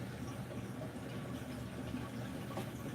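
Water flows steadily in a sand waterfall tank, a faint continuous trickle and bubbling with no pauses.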